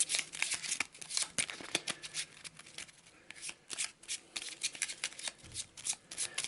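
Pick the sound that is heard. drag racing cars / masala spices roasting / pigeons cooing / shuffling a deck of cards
shuffling a deck of cards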